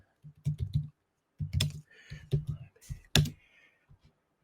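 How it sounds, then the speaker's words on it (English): Typing on a computer keyboard, a few short bursts of rapid key clicks separated by pauses, close and fairly clear, with a voice speaking softly in between. "let me do a screen share, and let's type in women's lib"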